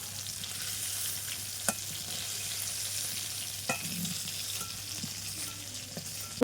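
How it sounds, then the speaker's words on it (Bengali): Fish fries in oil in a pan in a home kitchen, a soft continuous sizzle with a low steady hum and a few sharp clinks as pieces are lifted out. "মাছগুলো ভাজা হয়ে গেছে তুলে নিচ্ছি"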